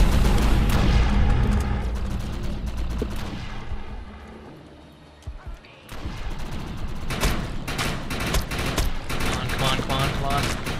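Rapid assault rifle fire in the Defiance video game crackles in dense loud bursts, fades into a short lull with a few scattered shots, then resumes as sustained automatic firing.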